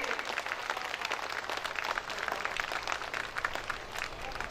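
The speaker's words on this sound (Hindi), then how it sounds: "सब लोग जोरदार ताली बजाइए।" An audience at a public political event with a deputy chief minister rises and applauds, producing dense, sustained clapping throughout with a faint crowd murmur mixed in.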